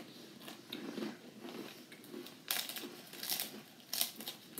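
Crunchy bites and crinkling of dry crackers being eaten quickly in a race, with soft irregular crunches close by and brief louder crackles near the end.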